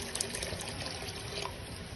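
Water pours steadily into a cooking pot while potato pulao is being made, a continuous close splashing trickle that lasts the whole moment.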